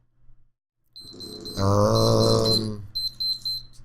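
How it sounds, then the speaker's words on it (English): An electronic beeper goes off indoors, sounding a loud burst of tones for about a second, then a few quieter follow-up beeps. "That's my lovely beeper. There it goes again."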